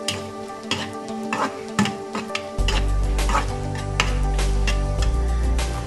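Soya chaap frying in a pan with tomato sauce, a steady loud sizzle that swells partway through, with rhythmic scraping and clinking of a spatula stirring against the pan.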